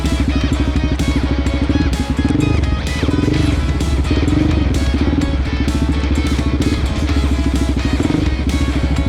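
Suzuki DR-Z400S dirt bike, a 2020 model, riding single track, its engine droning loud and steady throughout with a constant low rumble and rising, falling revs.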